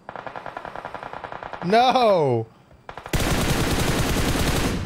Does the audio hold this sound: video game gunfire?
yes